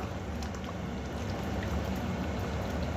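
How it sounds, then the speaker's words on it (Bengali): Hot water poured from above into Kashmiri-style potato curry (aloo dum) in a cooking pot: a steady, continuous rushing pour that holds at an even level for the whole stretch, with no talking. "এরপর ওপর থেকে একটু গরম জল দেবো"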